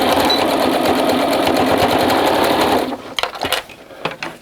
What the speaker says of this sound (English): So going to zigzag down, covering that spot that was a little bit bare.